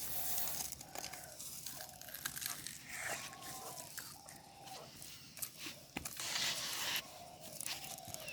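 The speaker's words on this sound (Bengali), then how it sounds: "এবার মরিচগুলো লবণ দিয়ে চটকে নেব, চটকে তারপর একসাথে মাখাবো।" Chilies being mashed with salt by hand for a star fruit bhorta, soft squelching, crunching and crinkling squeezes repeating in an uneven rhythm, close and fairly quiet.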